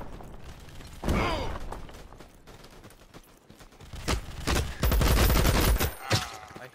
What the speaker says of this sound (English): I hear gunfire from towards the shitter